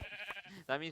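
A baby sheep bleats in the Minecraft video game, two or three short, wavering cries in quick succession, close and fairly quiet.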